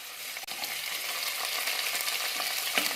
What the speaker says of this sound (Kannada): ನೋಡಿ, ಇವನ್ನ ಹೀಗೆ ಫ್ರೈ ಮಾಡ್ಕೊಳ್ತಾನೆ.